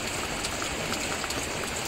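Heavy rain pours down at a home in Deca Homes Meycauayan, where water collects along the side of a house that has no gutter. It makes a dense, steady, unbroken hiss close by, with no voices.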